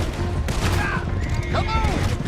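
Gunfire crackles during a chaotic shootout in Red Dead Redemption 2, a rough volley of shots and impacts under shouting voices and whistling, loud and close throughout.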